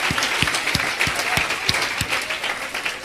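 Church conference audience applauding, with rhythmic, evenly spaced claps over a dense bed of crowd clapping, steady and moderately loud throughout.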